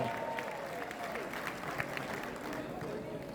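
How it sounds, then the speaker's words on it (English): An audience applauds at a ceremony at the polytechnic MAPOLY in Abeokuta, a soft, distant, steady clapping from a crowd with a voice faintly over it. "Please give a round of applause to Honorable"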